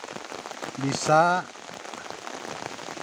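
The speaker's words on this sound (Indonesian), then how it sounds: "Jadi tiba-tiba hujan deras" Steady heavy rain patters across the whole stretch in a forest while a voice speaks briefly near the start, the downpour continuing unbroken afterward.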